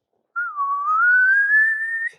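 One long whistled tone, loud and alone, dipping briefly and then sliding slowly upward over about two seconds like a slide whistle, which a voice appears to imitate.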